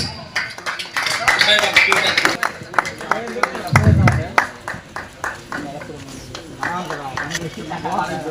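An audience at a village cricket tournament prize ceremony applauds the runner-up team with dense, sustained clapping under an announcer's amplified voice.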